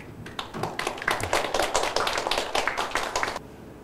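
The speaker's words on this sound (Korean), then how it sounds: "박수로 맞아주시기 바랍니다" Audience applause greeting a guest speaker at a Korean seminar on cooperation with Germany, a dense burst of many hands clapping that swells quickly, holds steady for about three seconds, then stops abruptly.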